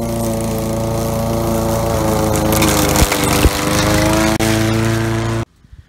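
A modified riding lawn mower runs steadily at close range, its engine drone loud and continuous with a couple of brief bumps, then cuts off abruptly just before the end.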